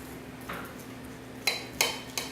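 A Cutco knife slicing through food, heard as a few short, sharp metallic clicks and scrapes against a plate or board, spaced apart over a quiet background.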